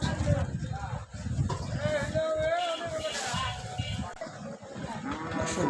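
A cow moos in a long low call amid a busy crowd at a cattle market in Narayanganj, Bangladesh, with people talking loudly nearby throughout.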